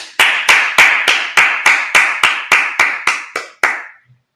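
Congregation at a Sabbath service clapping together in a slow, even rhythm, about a dozen loud, sharp unison claps that stop abruptly.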